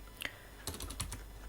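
Fingers tap a computer keyboard while entering code, a single early keystroke followed by a quick burst of several close, crisp clicks, quiet and without speech.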